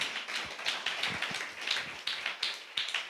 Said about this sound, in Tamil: நல்ல சகோதரர்கள், நல்ல 2 கையை தட்டி.